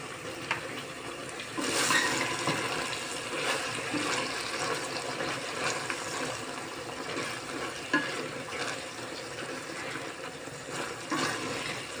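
Water poured into a pan of frying fava beans, a broad steady sizzle and hiss with a louder surge near the start, continuing with small crackles and no talk.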